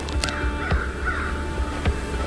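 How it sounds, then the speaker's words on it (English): A crow in the WinterWrath video game gives a few harsh caws at a moderate distance, spaced irregularly over a steady low ambient hum. "Bahir turns into the crow."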